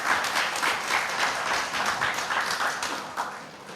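An audience at a book talk applauds steadily, a dense patter of claps at moderate level with slight swells, continuing through the whole stretch without any voice over it.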